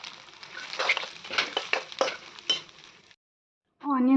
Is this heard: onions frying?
yes